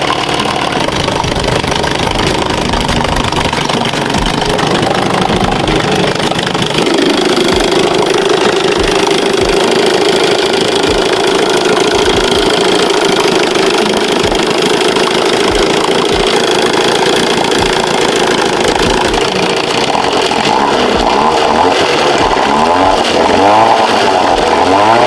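A Johnson/Evinrude 6 horsepower outboard motor running steadily after carburetor work, a loud, close, continuous buzzing engine drone that shifts slightly in pitch partway through and rattles near the end.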